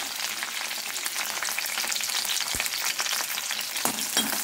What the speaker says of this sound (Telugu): ఇదే బాణలో నూనె పోసుకుని నూనె వేడెక్కాక ఒక 10-15 పచ్చిమిరకాయలు